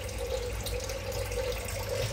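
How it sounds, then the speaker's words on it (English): Cold water runs steadily into a container for rinsing live blackworms, a close, continuous splashing rush with a faint underlying hum. "So you just put some water in."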